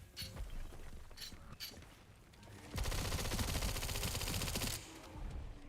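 Sustained burst of SMG automatic fire in Resident Evil Requiem, a dense rapid rattle of shots lasting about two seconds, with a few scattered shots and game noise before it.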